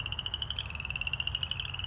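Western chorus frog calling by a small pond, a rapid, steady train of high trilling pulses repeating close by throughout, over a low background rumble.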